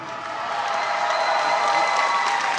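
A Comic Con crowd applauds performers costumed as Jack Sparrow and Angelica Teach from Pirates of the Caribbean 4, loud sustained clapping that swells slightly and holds steady.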